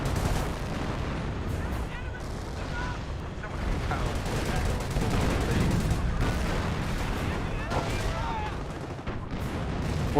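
Werfer rocket artillery barrage in the Company of Heroes game: a dense, continuous stretch of rumbling blasts and crackling explosions. Scattered gunfire runs under it, and a commentator talks throughout.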